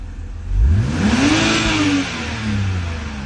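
A BMW N52 engine with a ValveTronic fault revs once, climbing quickly to a loud, close peak, holding briefly and then falling back toward idle.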